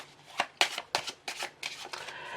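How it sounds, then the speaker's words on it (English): A pack of playing cards is shuffled during a 27 card magic trick, with about six quick riffling bursts in a row, close and crisp, each a short flurry of flicking card edges. "Ask them to shuffle the cards they've chosen."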